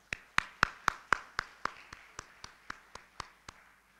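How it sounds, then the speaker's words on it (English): Distinct, evenly spaced claps close to the microphone at a freight conference, about fourteen in a steady rhythm, loud at first and gradually fading, with no crowd noise or talking behind them. "please give a round of applause to all the speakers today"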